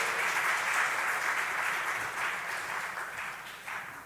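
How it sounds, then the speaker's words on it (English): Audience applause at the official launch of the Nigeria Gender County Programme, a large room of people clapping in a thick, sustained roar that fades slightly toward the end. "Please give them another round of applause."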